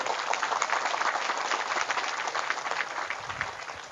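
Applause from an audience at an Indonesian gathering honoring kiai: a dense, steady clatter of many hands clapping for the full stretch, fairly loud and close, with no voices over it.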